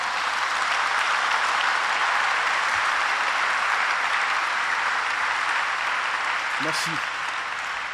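A church congregation applauds in sustained, dense clapping that fills the whole stretch, with a brief spoken word over it near the end.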